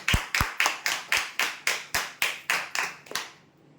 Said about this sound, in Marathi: हे विजेते आहेत ड्रेसिंग टेबलसाठी जोरदार टाळ्या होण्यासाठी